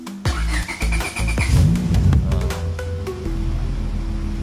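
A car engine cranks after a single push of the start button, catches and settles into a steady, close idle.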